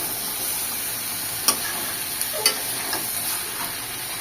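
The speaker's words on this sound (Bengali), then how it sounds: "একটু পর পর নেড়ে নেড়ে মাংসটাকে কষিয়ে নিতে হবে যেন আবার নিচে ধরে না যায়" Duck meat bhuna is stirred and fried in a pan with a steady, loud sizzle throughout and a couple of sharp scraping clinks of the spoon against the pan, close and continuous, without talk.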